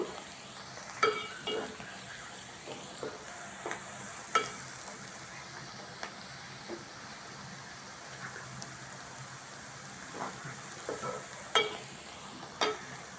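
Bitter gourd pieces fry uncovered on high flame, a steady soft sizzle with scattered scraping clicks from stirring, fairly close and moderately loud, no voices.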